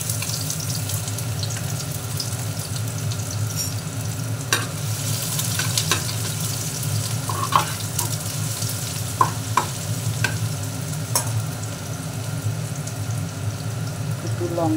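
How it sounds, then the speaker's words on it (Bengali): Chopped onions fry in mustard oil with a continuous close sizzle and crackle, broken by occasional sharp spatula knocks and scrapes against the pan. "আমি এবার পেঁয়াজ কুচিয়ে রেখেছি, পেঁয়াজ কুচানোটা দিয়ে দিব এর মধ্যে"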